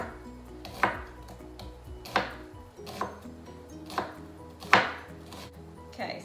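A knife slicing an onion thin into half circles for a salad, with five or six crisp blade knocks on a cutting board spaced about a second apart, close and clear with no talking.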